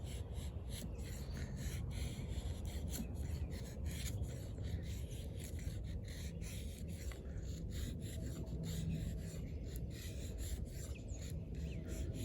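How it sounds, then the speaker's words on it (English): Eafengrow EF-144 drop point combat knife carving shavings off fatwood: a steady, continuous scraping rasp, close and fairly quiet, with no talking. "You need to take some shavings off the fat wood."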